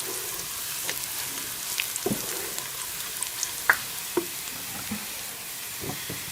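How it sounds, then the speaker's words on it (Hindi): Whole spices fry with onion in a pan while a utensil stirs them. A soft, constant sizzle carries light clicks and scrapes spread across the clip, and it stays fairly quiet throughout. "इन्हें भी हम 1 मिनट के लिए प्याज के साथ फ्राई कर लेंगे"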